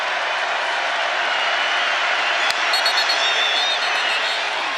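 Stadium crowd at a 2021 college football game between Iowa State and Texas Tech roars in a broad, sustained wash of noise, with a single sharp crack and faint whistles.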